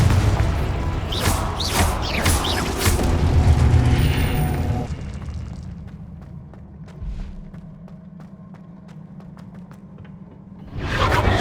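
A Confringo blasting curse cast in the Hogwarts Legacy video game bursts with a loud, booming, rumbling explosion that lasts several seconds. It fades into quieter ambience, and another burst rises at the end.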